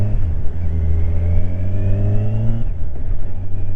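A Kawasaki Ninja 1000 SX motorcycle pulls away smoothly from a standstill, its engine note climbing steadily and close by before easing off at a gear change near the end.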